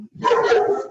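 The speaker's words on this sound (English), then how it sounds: "that's my dog" A single short dog bark, close and fairly loud, heard in a home office during an online presentation, with brief quiet before it and no talk over it.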